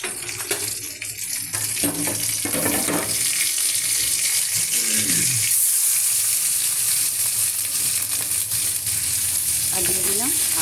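Garlic and chili frying in a pan, a steady loud sizzle with scraping stirs and occasional clinks, close up and continuous throughout.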